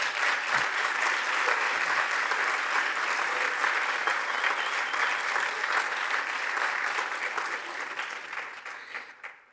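An audience applauds at an address at Stanford's Hoover Institution, with loud, dense clapping that holds steady for several seconds and then tapers off near the end.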